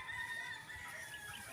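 Chickens and a rooster on a small family farm, clucking and calling steadily at a moderate distance over a low outdoor rumble, with no talking.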